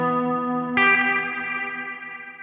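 Electric guitar chord played through a Meris LVX delay pedal set for a reverb-like wash, sustaining with a smooth, shimmering tail; a fresh strum partway through swells the sound before it slowly decays.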